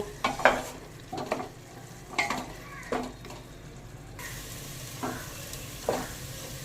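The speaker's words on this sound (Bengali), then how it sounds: "এবার একটু নেড়ে নেব।" Ginger, green chilli and garlic paste fry in a pan for chicken curry, a low sizzle punctuated by several scraping strokes of a spatula at an uneven pace, fairly quiet with no talking.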